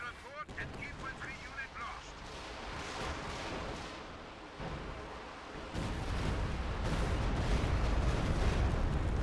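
A Stuka dive bomber strike in Company of Heroes 2, with rumbling explosions and battle noise that swell louder in the second half, while a voice talks over the first part.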